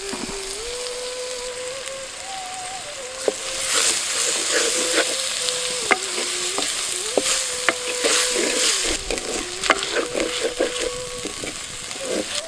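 Steady sizzling and frying of small onions with rock salt, then tomatoes, in a pan for rajma curry, with occasional stirring scrapes, under soft background music.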